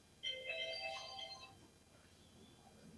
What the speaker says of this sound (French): Il faut changer cette sonnerie parce que ça sent comme la sonnerie spéciale de mon épouse.